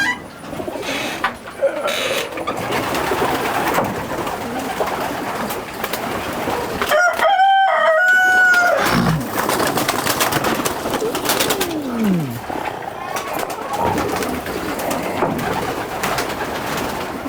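Racing pigeons coo in a one-loft race loft, soft rolling calls repeating close by over a constant background of shuffling birds and wing flutters.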